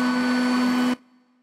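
A ShopBot CNC machine running on backup UPS power in a woodworking shop gives a loud, steady whirring drone that cuts off abruptly, leaving a faint low hum.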